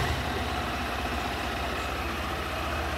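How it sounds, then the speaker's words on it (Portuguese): A red 2018 Honda CG 160 Titan motorcycle engine idles steadily with an even, low, throbbing rumble, close by and unchanging throughout. "Olha o ronco da sua moto."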